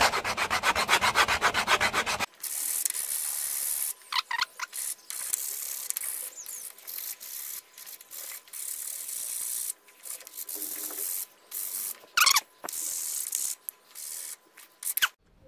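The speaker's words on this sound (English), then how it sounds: "sanding down each one of those wood pegs." Grit sandpaper rubs by hand over wooden pegs on a wooden box, a steady dry scratching in repeated strokes with brief pauses, close and alone.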